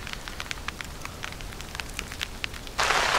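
Rain patters on a tent while camping in the pine barrens: scattered close drop taps hit the fabric, then a sudden louder, denser downpour hiss swells in near the end.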